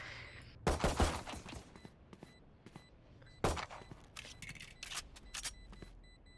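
Turret fire during a Valorant match on the map Bind: two sharp bursts of gunfire, each followed by scattered rattling shots and clicks, loud and close.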